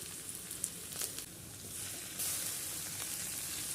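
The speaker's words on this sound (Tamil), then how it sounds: "ஒரு ஏழு எட்டு பல் பூண்டு நசுக்கி வச்சுருந்தோம் இல்லையா அதை போட்டு அனல் குறைச்சி வச்சு நம்ம உரைக்கிடலாம்" Crushed garlic cloves, seven or eight of them, sautéing over low heat in a pan for black kavuni rice kichdi, giving a soft, steady sizzle that grows slightly louder partway through, with no voices.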